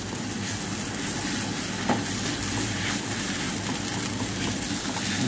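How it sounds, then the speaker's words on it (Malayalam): Spice mix with garam masala sautés in a pan while making egg puffs, giving a steady, close frying sizzle with faint scraping of stirring throughout and no talk. "പിന്നെ ഗരം മസാല ഇതെല്ലാം കൂടെ നമുക്ക് നന്നായി വഴറ്റിയെടുക്കാം"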